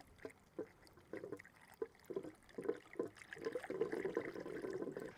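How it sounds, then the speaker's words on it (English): Liquid is poured into a Jayco caravan water tank, faint irregular glugs and trickles that build into a steadier gurgling flow toward the end, close and quiet with no talk. "So we just now pour this into the tank, and this will go in."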